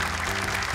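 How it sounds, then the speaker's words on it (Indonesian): Studio audience applauding two contestants on an Indonesian Quran memorization talent show, a steady dense wash of clapping filling the short moment with no voices over it. "Tepuk tangan dong untuk 2 peserta kita ini."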